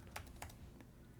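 Keys clack on a computer keyboard in short, close bursts: a couple of quick strokes, a pause, then a few more light taps, with no one talking.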